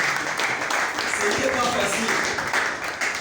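Audience applause for two new official assistants fills the space as a steady broadband wash, running beneath someone speaking throughout.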